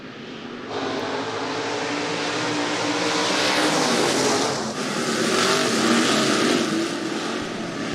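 Pack of stock cars roaring together through the first turn at Rapid Speedway, a dirt oval, in a heat race; a loud, continuous blended engine drone that swells slightly as the field passes, with no talk over it.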